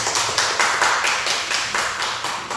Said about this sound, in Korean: 박수로 모십니다.